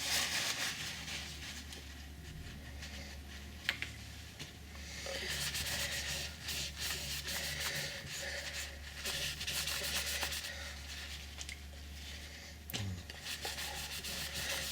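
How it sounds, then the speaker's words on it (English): An abrasive pad gently rubbing sanding sealer on a turned wooden pen, a soft steady scrubbing hiss in repeated strokes over a low steady hum, quiet and close. "just a gentle rub now, this abrasive pad, and that'll just knock that sanding sealer back"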